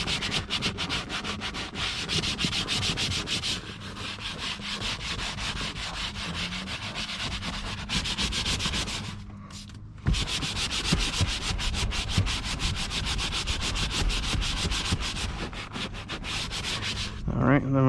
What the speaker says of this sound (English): I'm going to go ahead and use a Scotch-Brite pad.